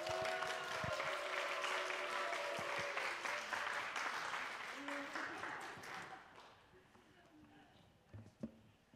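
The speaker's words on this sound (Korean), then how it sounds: "우리 뜨거운 박수로 환영하겠습니다." An audience claps warmly in a church lecture hall to welcome a pastor to the stage, a dense burst of applause that fades out over about six seconds.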